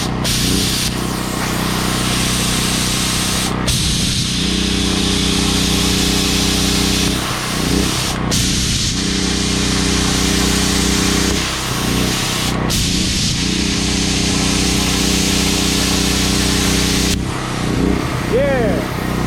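YesWelder Cut-65 plasma cutter slicing 1/8 inch steel while powered by a generator, a loud, continuous spraying hiss over a steady engine hum, broken by a few sharp starts and stops.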